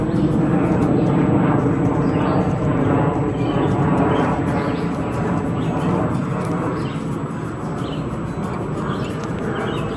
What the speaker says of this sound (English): Hello, airplane.